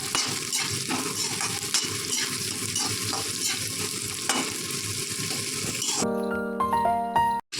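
Onions frying with garlic in a pan over medium heat give a steady close sizzle with stirring scrapes, ending in a light clink of metal utensils.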